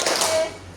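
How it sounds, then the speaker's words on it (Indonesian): A group of people standing in a room give two quick rhythmic claps in unison during a clapping exercise, a short close burst that fades quickly. "kita tepuk tangan"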